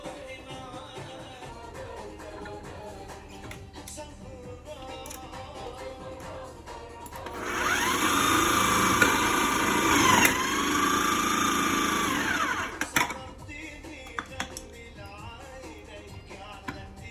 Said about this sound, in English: I grated them in the food processor.